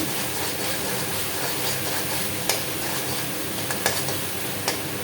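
Spices fry in oil in a kadai, giving a steady sizzle with a few sharp ticks from stirring against the pan and no voices.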